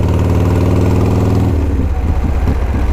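A 29-year-old motorcycle engine idles close by with a steady, throbbing low rumble that turns slightly uneven and lumpy halfway through, loud and alone with no talk.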